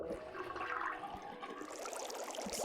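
Water draining from an unplugged sink in Zero Escape, a rushing, gurgling flush of water pouring away, close and steady throughout, no voices.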